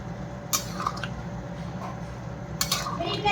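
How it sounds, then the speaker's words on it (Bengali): Fried lentil dumplings being stirred into jackfruit curry in a pot: soft, wet squishing and scraping, with a couple of sharper clinks of a utensil against the metal over a steady low background hum. "বড়ি কটা দিয়ে এখন একটু ভালো করে মিলিয়ে দিই এর মধ্যে"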